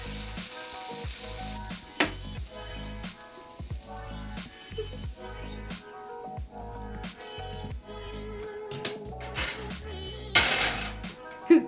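Carrots sizzle and grill in a pan with a steady crackling hiss, broken by clinks and scrapes of a utensil against the pan and some background music.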